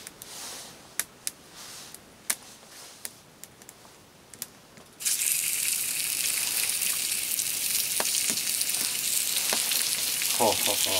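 Food fries in a pan over campfire embers beside a bivouac in a cave: faint crackles and pops at first, then a sudden loud, steady sizzle that continues close by with scattered spits and crackles.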